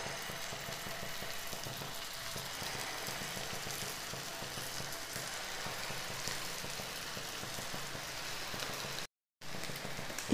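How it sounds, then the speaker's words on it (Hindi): Potato tikki shallow-fry in a little hot oil for Mumbai-style ragda pattice, a steady, dense sizzle that runs continuously and evenly up close, broken only by a brief gap near the end, with no voices. "गरम हो गया तेल, डाल देंगे टिक्की इसमें हम।"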